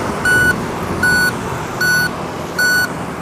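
An Uwinfly Romeo Plus electric three-wheeler sounds its reversing alarm: four loud, evenly spaced electronic beeps over a faint background hum.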